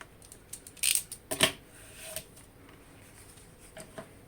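A few short, crisp snips and rustles of scissors cutting an opening through paper card, two louder bursts near the start, then quieter scattered clicks.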